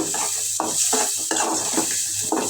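Shrimp coated in turmeric fry in a pan with chopped onion and green chilli, a continuous sizzle broken by repeated scraping strokes of a utensil stirring against the pan.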